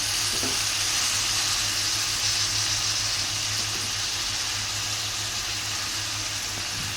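Tomatoes and chopped coriander fry in a pan with a loud, continuous hissing sizzle that holds steady throughout, close and without any voices.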